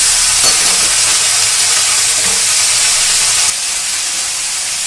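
Cauliflower frying in mustard oil, a loud, dense, close hiss of sizzling that holds steady throughout and drops slightly near the end, with no voices.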